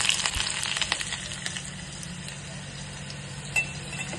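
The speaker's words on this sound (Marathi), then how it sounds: "तेल गरम झालेलं आहे, कांदा टाकलेला आहे, इकडे पण मी कांदा टाकत आहे" Onion frying in hot oil for Kolhapuri chicken rassa, a close, steady sizzle with occasional light clinks and stirring touches against the pan.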